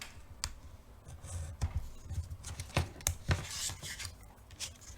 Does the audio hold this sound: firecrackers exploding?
no